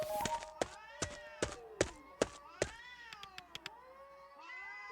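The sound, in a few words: cats meowing in the video game A Space for the Unbound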